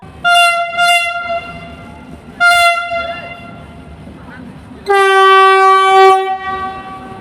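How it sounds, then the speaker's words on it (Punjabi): A Vande Bharat express train arrives at Bathinda station, sounding loud horn blasts: two short toots, a third a moment later, then a long sustained blast, with rumbling station noise underneath. "ਕੁਝ ਪਲਾਂ ਦੇ ਵਿੱਚ ਹੀ ਬੰਦੇ ਭਾਰਤ ਟ੍ਰੇਨ ਜਿਹੜੀ ਹੈ ਉਹ ਬਠਿੰਡਾ ਸਟੇਸ਼ਨ ਤੇ ਪਹੁੰਚਣ ਵਾਲੀ ਹੈ"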